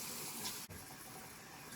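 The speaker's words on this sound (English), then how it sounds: "We have running water." Water rushes through a newly installed garage bathroom plumbing line during a leak test, a faint steady hiss of flow with a brief dip partway through, continuous and without voices.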